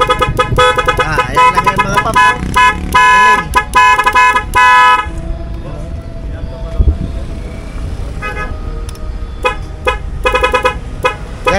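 A loud aftermarket 12-tone horn on a 2024 Yamaha Nmax V2 scooter blares in rapid shifting melodic bursts, pausing briefly midway before sounding again, very close and dominant.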